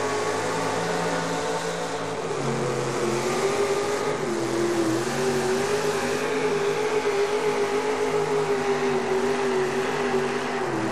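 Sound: modified pulling truck engine during truck pull

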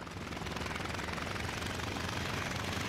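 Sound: WWII aircraft engine and gunfire in the video game IL-2 Sturmovik

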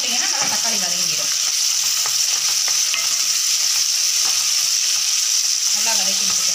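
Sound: tomatoes with salt being sautéed for fish gravy

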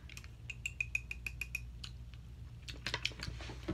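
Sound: small whisk mixing chocolate chip pancake batter

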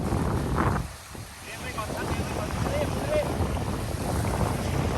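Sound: strong wind at Sirindhorn dam reservoir

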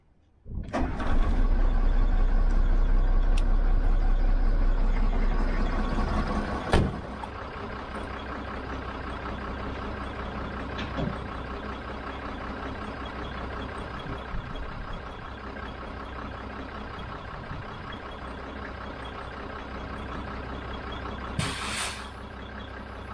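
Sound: recovery truck engine started and running

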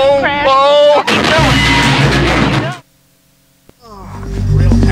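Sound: simulated incoming fire in virtual Abrams tank simulator

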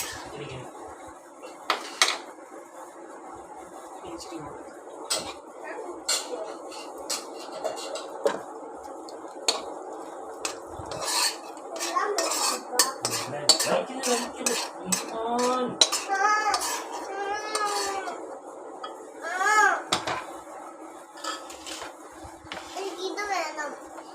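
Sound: spoon mixing beef and masala into biryani rice in pot

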